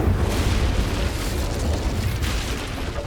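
Incendio fire spell erupting in Hogwarts Legacy, a loud, continuous roaring whoosh of flame with booming low rumble that holds steady for about three seconds before easing slightly.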